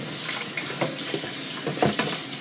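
Warm water runs steadily from a tap while an Aerogarden hydroponic growing unit is cleaned, a continuous close splashing hiss with brief louder spurts as the flow hits the parts.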